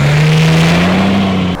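A Toyota Landcruiser 300 engine revs in launch-control mode, a loud, steady held rev whose pitch creeps slightly upward for about a second and a half before cutting off abruptly.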